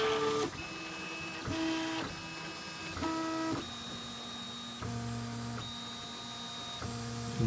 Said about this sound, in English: I'm actually printing another one right now for a buddy of mine.